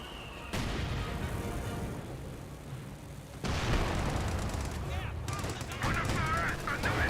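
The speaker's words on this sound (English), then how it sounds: "Double AT gun shot on the Comet tank" Anti-tank guns fire at a Comet tank in Company of Heroes 2, with booming shots cutting in abruptly over a dense battlefield din, several heavy reports spread across the stretch.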